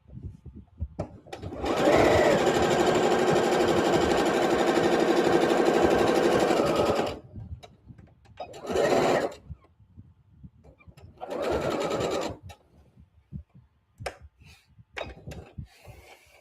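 A sewing machine runs in three bursts of stitching, a long steady run followed by two shorter ones, loud and close, with quiet pauses and small handling noises between.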